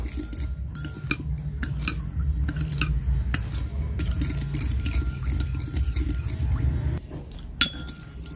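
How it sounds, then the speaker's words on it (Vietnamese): A spoon clinks against a bowl while stirring a vegetarian dipping sauce, with light irregular taps and scrapes over a low steady background rumble, and a sharper clink near the end. "thì mình cứ quậy đều lên"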